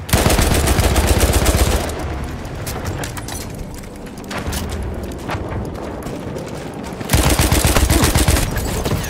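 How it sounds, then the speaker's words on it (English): Machine gun fire in Battlefield 1 multiplayer rattles in rapid, loud bursts, easing into more distant scattered shooting before another close sustained burst erupts near the end. "machine gun."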